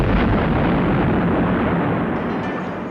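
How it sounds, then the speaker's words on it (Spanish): A cannon is fired at the front facade of Colombia's Palace of Justice during the military retaking of the building: a loud, broad blast that rolls on as a sustained rumbling roar and slowly fades. "¿por qué le disparan un cañonazo al frontis del palacio?"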